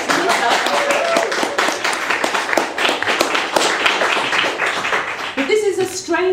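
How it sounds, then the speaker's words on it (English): A small audience applauds an in-house knitter in a shed, dense continuous clapping from many hands throughout, fairly close and steady, easing off near the end. "give a round of applause to our in-house knitter"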